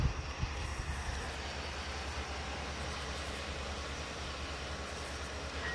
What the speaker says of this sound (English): You can hear the tracks making the popping noises.